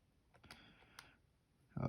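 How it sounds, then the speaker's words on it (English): Buttons clicked on a TI-84 graphing calculator while a function is keyed in: a few quiet, separate taps, then a louder burst of handling noise at the end. "So I'm typing in my function."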